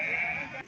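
A sheep at the Guduru livestock market gives a single loud, close, drawn-out bleat that quavers and fades near its end.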